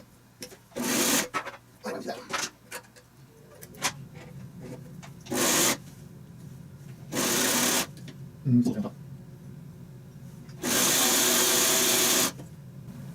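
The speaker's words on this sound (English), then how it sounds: "So we have got this successfully sewing now with the new take-up lever" A Singer 301 sewing machine with a new thread take-up lever runs in several short bursts of rapid stitching, loud and close, with quiet handling noises in the gaps.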